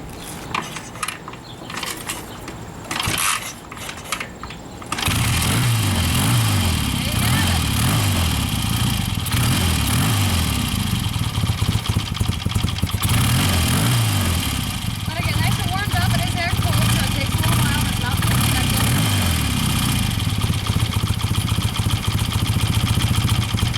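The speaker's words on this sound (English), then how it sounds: "this bike usually starts on first kick on a good warm day" A 1969 BSA Lightning 650 or 1978 Triumph Bonneville 750 vintage motorcycle is kicked over a few times, then catches and settles into a steady, loud, close idle with a throbbing twin-cylinder rhythm that runs on without pause.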